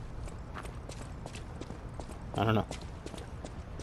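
Horse hooves clip-clopping in the video game Lies of P, a steady patter of hoofbeats under ambient game sound, with a brief spoken line and a louder burst partway through.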